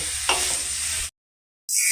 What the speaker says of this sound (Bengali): এবার গ্যাসের ফ্লেমটাকে মিডিয়াম টু হাইতে রেখে কুমড়োগুলোকে ঘিয়েতে ভালো করে ভেজে নিতে হবে